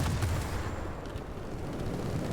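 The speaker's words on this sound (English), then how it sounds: "let's get this 37mm cannon onto a bomber" A 37mm aircraft cannon on the I-250 in World of Warplanes firing at a bomber, a steady, dense rumble of heavy automatic shots with no clear gaps between them.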